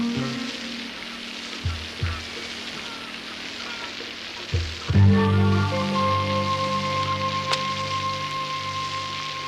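Steady rain patters on a surface with a few low thumps, then a low droning hum joins partway through and continues under it.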